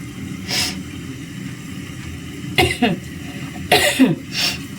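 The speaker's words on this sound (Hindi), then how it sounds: "खांसी हो गई।" Several coughs break out close by, a pair of harsh bursts followed by two more, over a low background hum.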